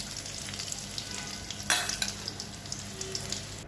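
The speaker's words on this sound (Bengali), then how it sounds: "সয়াবিনটা আমার ভালো ভাজা হয়ে গেছে, আমি তেল ঝরা এখন উঠাই নেবো।" Soybean chunks fry in foaming mustard oil, a steady soft sizzle with scattered crackles and a brief louder stir or scrape midway, close and faint, no talking.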